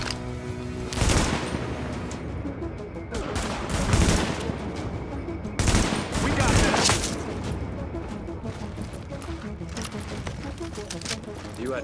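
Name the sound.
gunfire in the video game Tom Clancy's The Division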